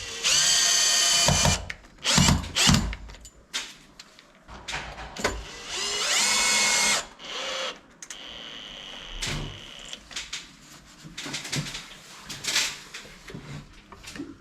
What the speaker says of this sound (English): then I'll drill some holes, put some anchor points in it.